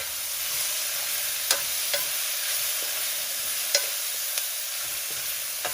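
Drumstick leaves tossed with soaked toor dal sizzle steadily in a hot pan, a soft continuous crackle broken by a few sharp spatula scrapes and stirs, close up with no voices.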